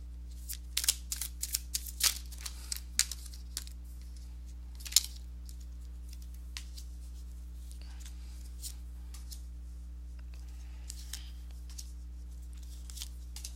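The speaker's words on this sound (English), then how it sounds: "let me go ahead and give these cards a shuffle" Tarot cards are shuffled in quick, crisp riffles and taps, busy at first then thinning to occasional soft flicks over a low steady hum.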